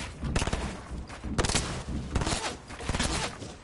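Rapid shotgun blasts in a multiplayer shooter game, a dense barrage of sharp, loud reports that overlap and repeat steadily for several seconds.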